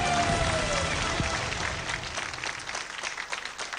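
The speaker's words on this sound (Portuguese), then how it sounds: "uma salva de palmas para o Carlos Daniel" Studio audience applause on a Portuguese TV quiz show, a sustained broad wash of clapping that stays loud throughout and eases slightly toward the end, with faint voices mixed in.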